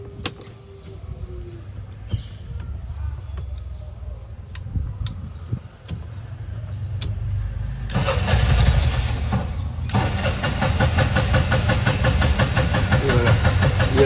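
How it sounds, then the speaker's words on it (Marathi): An auto-rickshaw engine cranks and sputters, failing to catch at first, then roars into a loud, steady running rumble that continues to the end. "कशी नाटक करते गाडी चालू व्हायला"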